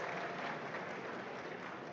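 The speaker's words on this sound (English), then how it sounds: "A round of applause." An audience at a ceremony for a royal silver jubilee claps in a brief, even burst of applause, dense and fairly faint, like a large crowd heard from a distance.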